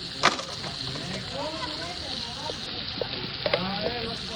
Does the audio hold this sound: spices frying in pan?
yes